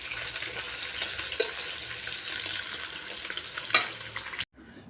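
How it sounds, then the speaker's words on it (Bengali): Fish fries in a pan at home, a close, continuous oily sizzle with faint crackles and a brief clink near the end, then the sound stops abruptly. No speech. "এখানে মাছ ভাজা চাপিয়ে দিয়েছি"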